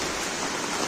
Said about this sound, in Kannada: ಜೋರು ಮಳೆ ಬರ್ತಾ ಉಂಟು